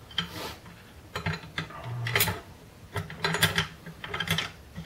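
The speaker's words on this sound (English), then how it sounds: "So let's put the bolt and bolt carrier back into the upper." A bolt and bolt carrier slide into an ARAK 21 rifle upper, giving a series of close metallic scrapes, clicks and clacks. The bursts are irregular and spaced apart, with quiet gaps between them.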